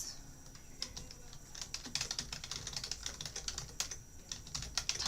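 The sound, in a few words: typing on a computer keyboard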